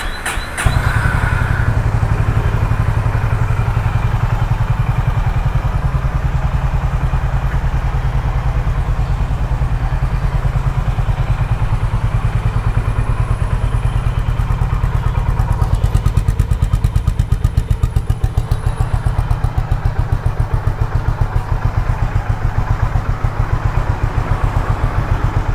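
A Honda H'ness CB 350 motorcycle engine, just after throttle-body cleaning, starts and settles into a steady close idle with an even rhythmic thump and light mechanical clatter, no voices.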